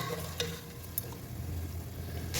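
Ginger garlic paste frying in a pan for mutton biryani, a soft continuous sizzle with a couple of sharp clinks from stirring, fairly quiet and without talk.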